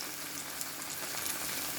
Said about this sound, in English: you want to fry your prawns before you start the entire process of frying your noodles